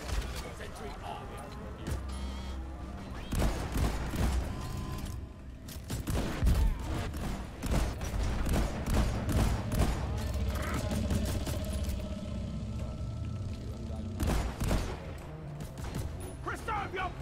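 A sentry gun in the Deep Rock Galactic video game fires in rapid clattering bursts with mechanical clanks, sustained over several seconds, while players talk over the action.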